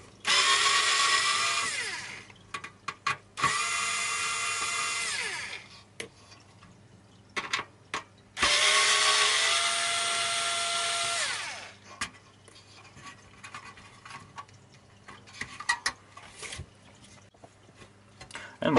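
A power screwdriver whirs in several bursts, a few seconds each, backing screws out of a Sky Plus box, close and fairly loud, with rattling and handling sounds between runs.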